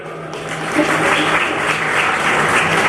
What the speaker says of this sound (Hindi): तो सभी के लिए जोरदार तालियां मार दिए एक बारी